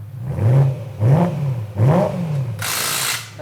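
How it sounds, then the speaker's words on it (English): A car engine fitted with an Ali Baba exhaust revving three times in quick succession, each rev rising and falling in a throaty roar, followed by a harsh hiss. "Sammy, give me a rev."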